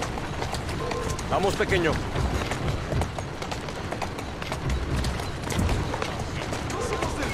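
Horse hooves clip-clopping at a steady run in the Victorian London of Assassin's Creed Syndicate, a continuous rhythmic patter under ambient street noise while someone speaks softly to the horse.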